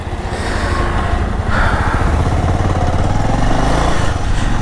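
A motorcycle engine drones loudly and steadily while riding, close up with low rumble and rising throttle texture, continuous throughout.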